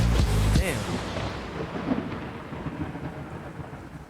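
A loud thunderclap opens the storm, then rumbles and fades over steady rain, with some faint background sound under the downpour.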